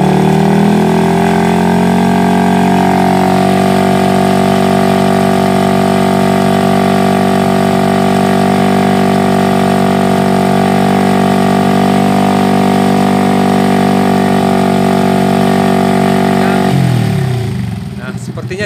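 Honda Revo motorcycle engine fitted with a new cylinder block, held at a steady throttle with a loud, even drone close up that drops off near the end.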